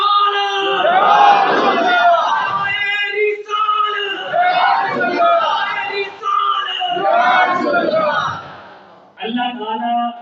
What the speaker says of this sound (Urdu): لگاؤ نعرہ، لاؤ ذرا نعرہ